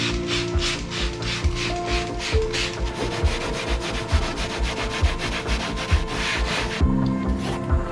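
Brush and scrub glove scrubbing the interior of a rare 90s Nissan Pulsar VZ-R N1 Spec II, a loud, close, rhythmic rasping rub repeating in quick even strokes over a steady background hum.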